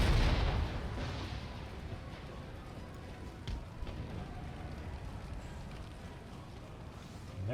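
Mortar fire on an Empire Total War battlefield: dull distant booms and rumbling impacts over a dense background of battle noise, with a louder burst at the start and scattered thuds throughout.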